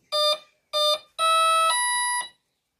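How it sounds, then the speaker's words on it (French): Three electronic beep tones from an RC boat radio transmitter, two short beeps followed by a longer one that steps down in pitch, loud and close with no talking. "Là, vous avez entendu 3 tonalités."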